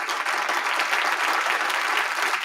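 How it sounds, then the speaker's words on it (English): Applause during a football prediction show, a steady dense wash of clapping filling the whole moment at an even level without talk over it. "Hey, men like Tesh also deserve the applause."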